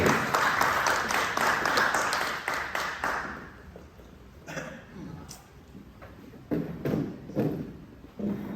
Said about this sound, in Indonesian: Kita sambut hambanya dengan tepuk tangan, Pastor Adi Sutanto.